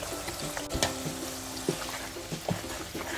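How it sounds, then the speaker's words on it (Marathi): Tomato puree fries in oil over high heat with a soft sizzle, and now and then a spoon scrapes and stirs through the pan. "मोठ्या गॅसवर ही फोडणी परतून घ्यायची."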